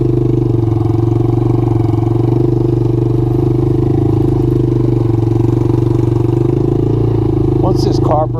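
A Suzuki LT80 ATV fitted with a 125cc Kymco manual-clutch motor runs steadily nearby with a loud, constant droning engine note and no pauses, its carburetor still out of adjustment.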